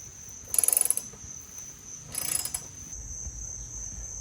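The last bolt on a badly rusted, battery-corroded shop truck is turned out with a ratchet, giving two short bursts of rapid clicking separated by a pause, faint and close, with quiet background.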